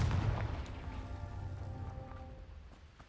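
A Confringo fire spell in Hogwarts Legacy bursts with a deep rumbling boom that fades into a crackling, rain-like hiss over a few seconds, with no talk.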